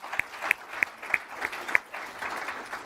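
Audience applause for Columbia University during an interview with Nancy Pelosi: a modest run of clapping with several sharp, distinct claps standing out at a steady rhythm, fairly faint and sparse rather than a full roar.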